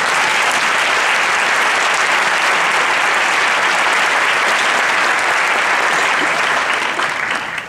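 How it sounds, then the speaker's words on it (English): Graduates at a Hunter College commencement ceremony applaud themselves, a dense, sustained roar of clapping from a large crowd that holds steady and loud before easing slightly at the end. "I want you to give yourselves a round of applause to appreciate what you've accomplished."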